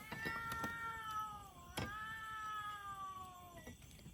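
A cat meows at night in a forest near a bamboo hut, one long, drawn-out wailing call with a sliding pitch, fairly faint and distant over low background hiss and a few clicks.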